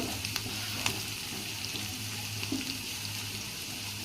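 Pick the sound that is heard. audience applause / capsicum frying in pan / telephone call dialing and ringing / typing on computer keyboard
capsicum frying in pan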